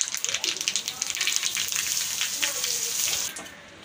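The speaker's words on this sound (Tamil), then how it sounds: "நெய் வந்து நல்லா உருகட்டும். கடுகு சேர்த்துக்கலாம். பெருங்காயம், கருவேப்பிலை ஆட் பண்ணிடலாம்." Mustard seeds, asafoetida and curry leaves sizzling in hot ghee, with quick crackling pops over a bright, steady frying hiss, close up, alongside a voice talking.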